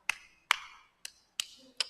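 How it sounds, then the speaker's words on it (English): Five sharp hand claps at a Sunday service, spaced unevenly about half a second apart, crisp and close with short decays and no talking. "there's a little bit of clapping in there"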